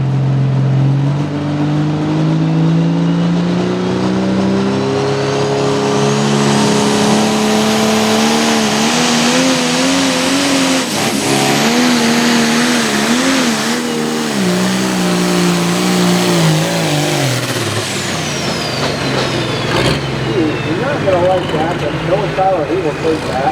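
Roaring engine of a roughly 2,700-horsepower pulling tractor in the top class at a 2025 Selinsgrove tractor pull, loud and close, its pitch climbing and wavering through the run before cutting off, with an announcer talking over it.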